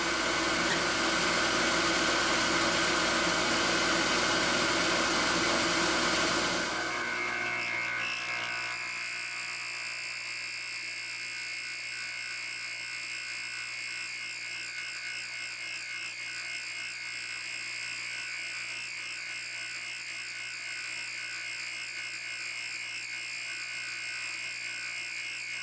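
A milling machine spindle runs at about 2,800 RPM, cutting heat-treated 4140 chromoly steel with a steady, dense high-pitched whine and rattle. The sound is loudest for the first seven seconds, then settles into a quieter continuous machining hum.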